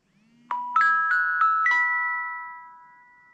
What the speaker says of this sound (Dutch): Ik krijg hier net een sms'je weer binnen van mijn buurman.